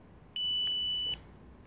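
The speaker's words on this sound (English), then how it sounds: "hold the mode button, M-O-D-E button, down until it beeps" A TST 507 tire pressure monitor gives a single clear electronic beep after its mode button is held, a steady high tone lasting under a second against quiet background, with no talking.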